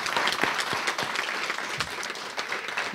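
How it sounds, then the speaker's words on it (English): An audience at an aviation institute family night applauds the college support staff, a moderately distant patter of many hands with a few sharper claps poking through, steady throughout. "I think we should give them a round of applause"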